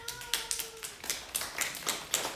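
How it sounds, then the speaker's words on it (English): An audience at a storytelling festival claps hands in a loose rhythm, about a dozen distinct crisp claps spaced unevenly over two seconds, fairly soft, with a brief hum at the start. "I want you to clap your hands like this."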